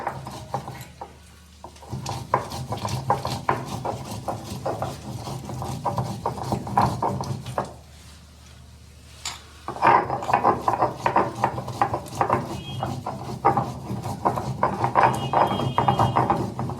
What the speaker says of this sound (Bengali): পরিমাণ মতন হলুদ আমি লঙ্কাটা বেটে নিচ্ছি এইভাবে